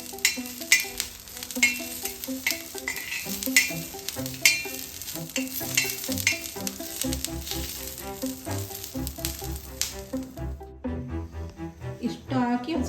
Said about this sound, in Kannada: ಚಟ್ನಿಗೆ ನಾನು ಹಸಿಮೆಣಸಿನ್ಕಾಯಿ ಹುರ್ಕೊಳ್ತಾ ಇದ್ದೀನಿ